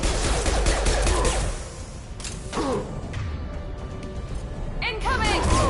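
Weapon fire in a sci-fi shooter video game, a dense fusillade of rapid shots under game voices and effects, with the barrage easing midway and resuming near the end.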